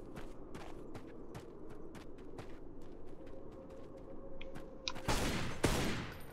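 Gunshots in the video game Tomb Raider Anniversary crack out as a string of evenly spaced, fairly quiet shots over a low hum, ending in a louder, denser burst.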